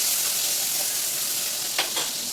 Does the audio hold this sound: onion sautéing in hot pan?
yes